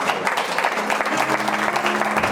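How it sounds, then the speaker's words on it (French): A church congregation claps continuously in dense, steady applause, with a faint voice or tone underneath. "Merci d'applaudir Jésus pour ça."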